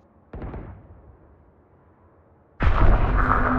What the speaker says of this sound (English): Shots and steps on B.